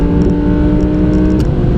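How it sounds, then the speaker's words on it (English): A steady, loud engine note from an Audi R8 Performance Pack on a race track holds a constant pitch with a sustained drone, heard close, with no speech. "let's get some pace on the go and see what that engine noise"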